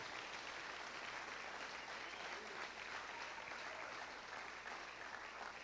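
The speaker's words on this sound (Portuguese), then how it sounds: "Aplauda ele" A church congregation applauds during a Portuguese-language conference service, steady dense clapping filling the room evenly throughout, fairly faint and distant with no pauses.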